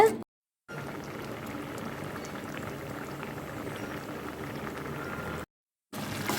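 Carrot halwa bubbles steadily in a pan as melted sugar turns it runny, a continuous close bubbling hiss that stops briefly near the start and again near the end.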